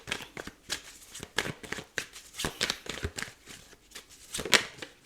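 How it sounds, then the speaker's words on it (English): A deck of tarot cards is split and shuffled up close in quick, crisp riffling bursts with irregular pauses, fairly loud and alone without talk. "split the deck to shuffle"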